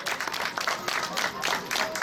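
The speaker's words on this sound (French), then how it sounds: "je voudrais qu'on applaudisse nos premiers invités qui sont avec nous ce soir" A studio audience at a French television show applauds the first guests in a steady, dense wash of clapping that holds for the whole stretch without any speech.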